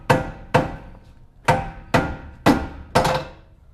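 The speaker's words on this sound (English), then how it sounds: "And then we'll hit it with the mallet." Six sharp, ringing mallet blows strike the lower shock bolt on a 2022 Toyota Tundra during a lift kit install, landing close and loud at an uneven rhythm with short pauses between hits.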